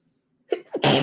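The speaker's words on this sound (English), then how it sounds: "I had a sneeze." A single loud, close sneeze, with a short sharp intake of breath followed by an explosive burst.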